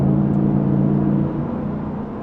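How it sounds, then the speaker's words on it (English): A pickup truck accelerates under throttle with windows down, a loud close engine drone and road rumble that eases off slightly partway through, with no talking. "the acceleration I get when I throttle it"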